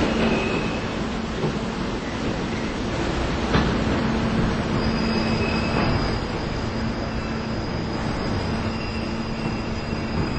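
A video game subway train, a 53rd Street bound Q Express, rolls in with a steady rumble, wheels squealing in high drawn-out tones, then a sustained electronic tone rises over the din.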